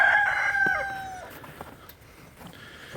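Rooster crowing loudly inside a mega chicken house on a farm, one full rising-and-falling crow at the start that trails off into faint barn clucking and background rustle.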